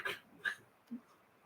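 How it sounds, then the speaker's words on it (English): A dog lying right under someone's feet makes a few quiet, close snuffling whimpers and breathy sounds, three short soft bursts in a hushed room. "You hear weird sounds, it's my dog."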